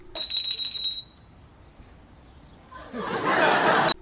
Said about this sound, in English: I get to ring a bell?